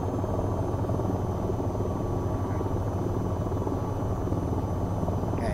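Steady, loud rotor drone of an AH-94 attack helicopter in flight in the VTOL VR game, a continuous low thrumming hum holding constant throughout with no voices.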